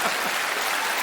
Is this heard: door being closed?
no